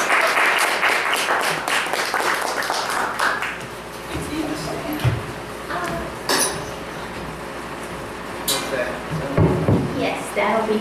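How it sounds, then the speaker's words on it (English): Applause at an open mic poetry night: a burst of clapping early on that thins out after a few seconds, followed by scattered knocks, clinks and shuffling sounds as someone moves about, with a voice talking briefly. "Let's all give a big round of applause for Janice Hornberg."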